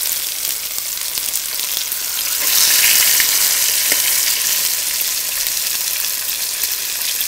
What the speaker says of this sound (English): You really want the lamb to brown off nicely